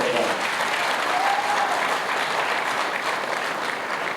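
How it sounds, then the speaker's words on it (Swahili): Audience applause at a stadium investment contract-signing ceremony, a steady, dense wash of many hands clapping that continues evenly for the whole stretch without a break. "Tuwapigie makofi."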